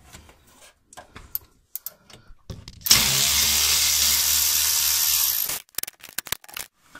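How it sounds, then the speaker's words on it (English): A power tool whirs loudly for about three seconds while loosening the differential cover bolts on a Ford Mustang rear end, with quiet clicks and handling noises before and after. "I'm going to go ahead and loosen all these up."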